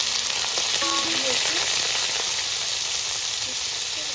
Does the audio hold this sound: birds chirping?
no